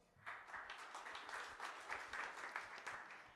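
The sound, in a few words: audience applause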